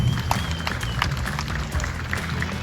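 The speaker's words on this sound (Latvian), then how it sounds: "Aplausi jums pašiem!" Applause for participants at a vintage ZAZ car gathering at the Riga Motor Museum, a thin patter of scattered hand claps at moderate distance, steady but sparse across the short stretch.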